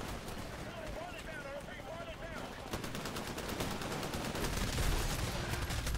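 Rapid SMG gunfire in the video game Titanfall, dense automatic bursts that grow louder and more continuous in the second half, with a voice making warbling, funny noises early on.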